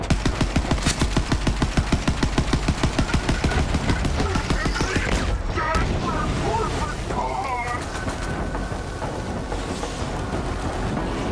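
Rapid automatic gunfire in Borderlands 3 crackles in a tight, even burst for several seconds, then gives way to scattered shots, chatter and effects, with talk over it.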